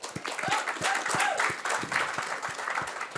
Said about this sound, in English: I think after every response, everyone started clapping.